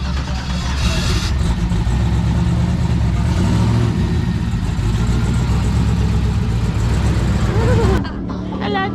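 Twin-turbo 427 cubic-inch Cadillac Escalade, a 6,200 lb SUV, revving hard toward red line at a Formula One track, loud sustained engine roar close by for about eight seconds before cutting off abruptly, with voices audible beneath it.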